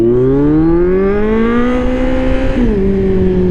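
A Kawasaki Z900 motorcycle, fresh from an oil change, revs hard and loud close by, its engine pitch climbing steadily before dropping back at the end of a single sustained rev.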